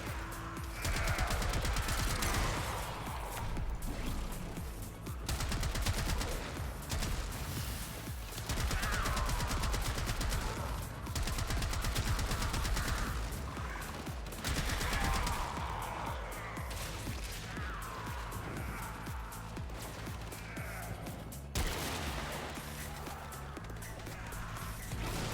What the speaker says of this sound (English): The Trumna mortar fire is a fun thing.